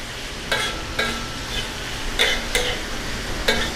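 Chunks of fatty meat tikka roast on a hot tawa griddle with a constant close sizzle, broken by several sharp scraping strikes of a spatula at irregular intervals; no talking.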